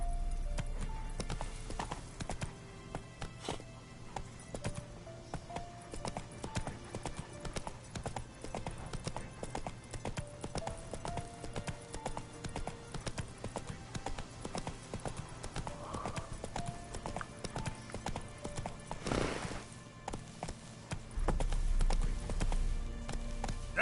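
Roach the horse in The Witcher 3 trots along with a steady, close clip-clop of hooves that runs the whole way, over soft game ambience, with a brief whinny-like swell near the end.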